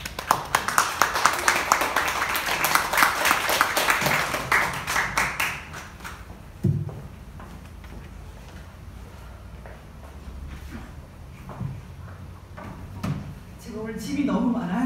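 A lecture audience in a small office hall claps to welcome the head of a transitional justice research institute, a dense loud round of applause lasting several seconds that fades out, followed by scattered shuffling and knocks.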